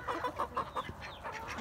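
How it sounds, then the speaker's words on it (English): Chickens cluck in a pen among meat ducks, a run of short rhythmic clucks in the first second followed by softer, drawn-out calls, fairly close and clear with no talking. "That's a chicken in there."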